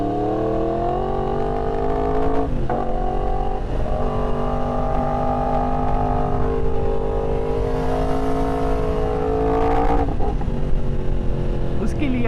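A sport bike engine runs and revs, a loud steady drone that rises and falls through several throttle blips, with brief dips around the middle and near the end.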